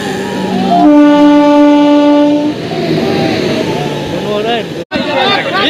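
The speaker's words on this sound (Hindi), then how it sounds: "यही वो ट्रेन है, दानापुर इंटरसिटी एक्सप्रेस" The Danapur Intercity Express passes close by at a rural halt, its horn sounding in long sustained blasts over rumbling wheels while a crowd cheers and talks loudly throughout.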